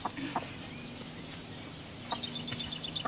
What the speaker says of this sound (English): Annie, helped by Joyce, takes delivery of 6 pullets. They're Rhode Island Red cross White Wyandotte and are at the point of lay